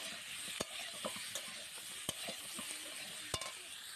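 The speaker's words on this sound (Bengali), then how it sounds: "দিয়ে মশলা ও আলু সুন্দর করে কষিয়ে নেবো।" Boiled potatoes frying with spice paste in a pan for an egg and potato curry, a faint, steady close sizzle broken by a few sharp clinks of a spoon against the pan, with no talk.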